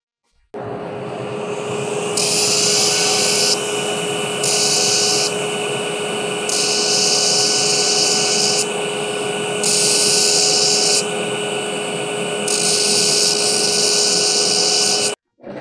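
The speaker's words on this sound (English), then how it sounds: "I'm gonna clean off some of this weld just so when this gets drawn out, I don't have to clean up quite as much." A power tool grinds weld off a Damascus steel billet in a knife-making shop. It gives a loud, continuous whine with steady tonal hum, and bursts of harsher abrasive hiss come in repeated passes of a second or two.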